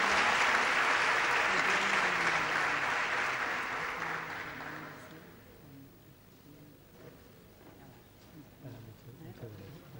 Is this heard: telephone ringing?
no